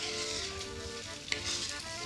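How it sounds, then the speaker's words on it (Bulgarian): Pork meat searing in a frying pan, a continuous close sizzle and crackle with a brief clink or stir partway through, steady throughout. "Слагаме свинското месо да се"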